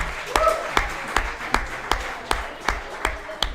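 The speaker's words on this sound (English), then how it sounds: "can you cheer for Jerry McNamara right now?" A crowd at a girls' flag football game claps and cheers for Jerry McNamara, sharp claps landing in a loose, fairly even rhythm for a few seconds, with no voice over it.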